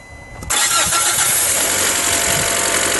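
A Fiat Panda 4x4 engine cranks and catches, then keeps running loudly up close with a steady, slightly rough knocking rumble.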